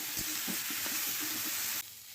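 Fish and homemade spices fry in a pan with a bright, steady sizzle and soft rhythmic stirring scrapes. The sizzle cuts off abruptly near the end, and no one talks.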